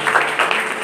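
Brief burst of audience applause, a dense patter of clapping at a moderate level with no voices.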